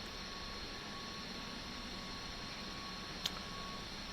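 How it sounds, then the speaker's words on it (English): Steady jet engine drone of an MD-82 airliner in a flight simulator game, a continuous broadband rumble with a faint high whine that holds level throughout, plus one brief click near the end. "Lovely aeroplane to fly this"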